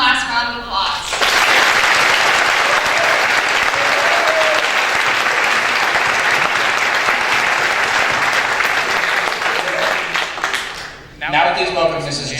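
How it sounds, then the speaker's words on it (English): Sustained, dense applause from a high school Class Day audience honoring Hall of Fame seniors, rising abruptly after a short voice, holding loud and steady for about ten seconds, then dropping away before speech resumes. "Let's give all these Hall of Fame seniors one last round of applause."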